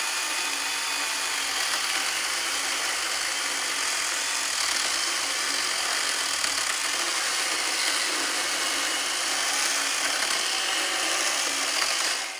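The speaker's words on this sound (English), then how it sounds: "the chainsaw takes quite a while to complete a full cut here" A small Makita UC100D 12-volt cordless pruning chainsaw buzzes continuously as it cuts through lumber, a steady whining motor noise at a constant level throughout.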